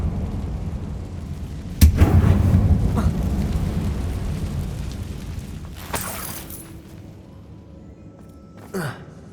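A Confringo fire spell blasts in a Hogwarts Legacy mine, a sudden booming explosion followed by a rumbling tail, with a second softer burst and a final sharp impact a few seconds later.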